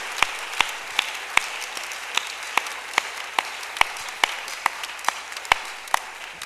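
A church congregation claps in steady, evenly spaced beats, sharp individual claps repeating about twice a second over a soft room hush, nearby and moderately loud with no talking.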